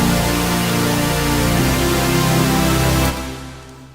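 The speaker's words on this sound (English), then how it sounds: "the next one is going to be the first detuned chord preset," A detuned synth chord stack preset in FL Studio sounds out as a thick, wide sustained chord that shifts once and then fades quickly at the end, with no voices.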